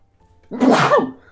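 A single sharp human sneeze bursts out after a brief quiet moment, loud and close, then fades.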